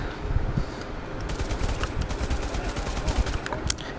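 Enemy gunfire in the PSVR shooter Bravo Team, rapid bursts of automatic fire crackling at moderate distance over a busy battlefield din, steady throughout without pause.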